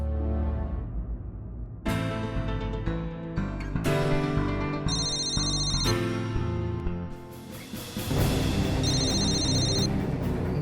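A mobile phone ringtone plays as an incoming call rings out, a repeating melodic tone sequence with chiming beeps, loud and close, with a short pause before it repeats.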